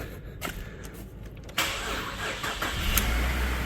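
A truck engine cranks and catches, then settles into a steady low idle that rumbles on close by, with no talking.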